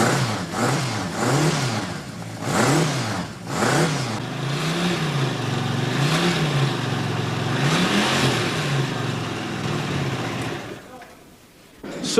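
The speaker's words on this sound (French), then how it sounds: "C'est fantastique un moteur." A motorcycle engine revving in repeated rising and falling surges close by, loud and sustained with a French-speaking voice talking over it.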